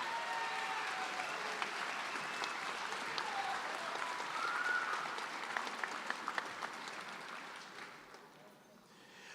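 Sustained applause fills a high school graduation ceremony in Phoenix, a dense crowd clapping steadily for about nine seconds before fading toward the end, with faint murmurs mixed in.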